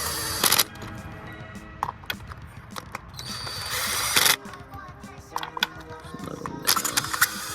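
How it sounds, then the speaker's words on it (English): An impact wrench snugs down spark plugs on a high-mileage Honda Accord coupe with a K-series engine, heard as several short, loud rattling bursts spaced a few seconds apart against a quiet garage background. "Not hit them with the impact, but snug them down with the impact."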